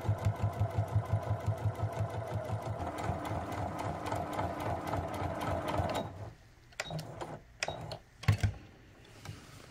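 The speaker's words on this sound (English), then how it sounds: "the machine is sewing along, no knots, no stalls" A sewing machine topstitches through fabric in a steady, fast mechanical whir with a regular needle rhythm, running loud and close for about six seconds before stopping, followed by a few scattered clicks and handling knocks.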